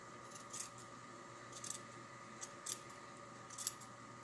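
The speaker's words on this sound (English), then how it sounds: "we're going to trim it away like this" Scissors trimming fabric backing close to the stitching on a homemade sleep mask: about four quiet, separate snips at an unhurried pace, heard up close against a soft background hum.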